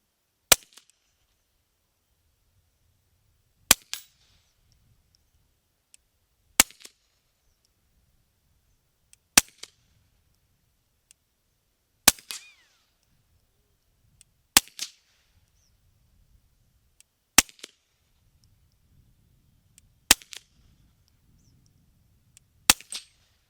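A Scorpion pistol fires high velocity .22 rounds, nine sharp, isolated cracks spaced about three seconds apart, each loud and close with short ringing tails and near silence in between.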